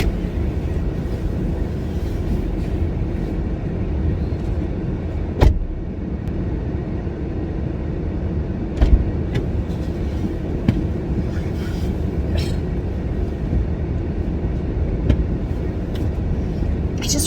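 A car sits idling with its engine left running on a freezing winter day in Wisconsin, a steady low rumble heard from inside the cabin with occasional small clicks and thumps over it.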